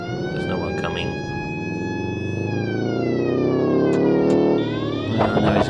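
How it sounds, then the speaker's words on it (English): Police car siren in BeamNG.drive sounding loud and continuous, its wailing tone sweeping up and down over engine rumble, with someone talking over it. "Turn on the siren because we're in a built-up area."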